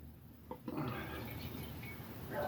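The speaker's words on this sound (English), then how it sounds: "let's pour it up" Matso's low-sugar alcoholic ginger beer, 3.5% ABV, pours quietly into a glass with a soft, continuous fizzing gush that begins after a brief click, and no one speaks.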